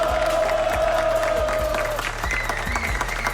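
A crowd applauds and cheers steadily for performers at a rap show, with dense, continuous clapping and shouts that blend with backing music.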